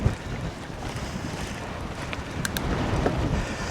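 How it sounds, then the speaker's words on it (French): A strong headwind buffets the microphone during a long mountain bike ride in open country, a loud, constant roaring rush with gusty surges and no talk. "Ah, vent de face là."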